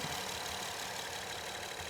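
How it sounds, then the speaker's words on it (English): A 2009 Honda Accord 3.5 V6 engine idles steadily, a faint, even hum with a slight ticking character that continues unbroken with no voices. "the engine sounds to be running like it always is"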